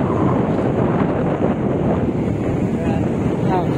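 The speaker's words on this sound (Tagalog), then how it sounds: "Sobrang lakas ang hangin." Strong wind buffets the microphone beside the Pasig River, a steady loud roar of gusts and rumble lasting throughout with no pauses.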